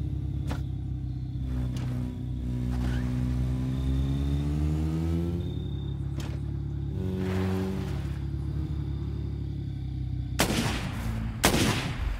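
Shotgun blasts in the survival video game State of Decay on Xbox One, a couple of loud broadband bursts near the end over a steady engine-like game background.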